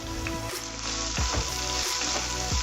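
Soya chunks fry in a pan with a constant close, loud sizzle, punctuated by repeated scraping stirs at irregular intervals.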